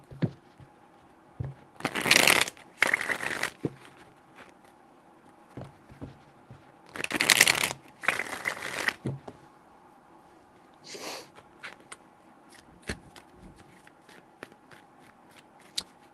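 Tarot cards are shuffled by hand in two close pairs of crisp riffling bursts, then a shorter fifth riffle, with quiet taps and handling between.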